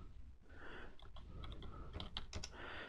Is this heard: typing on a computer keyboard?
yes